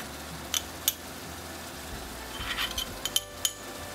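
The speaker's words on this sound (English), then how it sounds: "now I'm going to add some ginger and garlic paste so they all cook together." Spoon clinks against a pan while ginger paste goes into cooking onions for a crab curry, a few sharp metallic taps scattered over a faint steady background, quiet and close.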